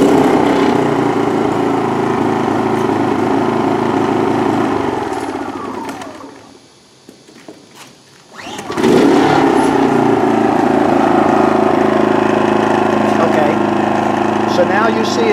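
A Genmax GM3200i inverter generator fitted with an extended run time fuel kit runs loud and steady, dies down to near silence for a couple of seconds, then is pull-started and fires right back up to a constant close drone.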